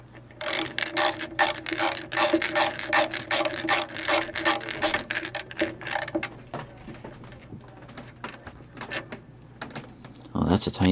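Rapid ratcheting clicks and scraping as the housing comes off a Lafayette LR-100, close and steady for several seconds before thinning into softer rubbing and handling noise.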